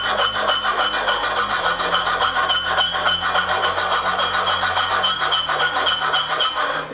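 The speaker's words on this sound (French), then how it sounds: "je finis à la lime" A hand file rasps steadily across metal on a Suzuki Jimny JB43 rear bearing part being modified. The even back-and-forth scraping is continuous and fairly loud, with no talk over it.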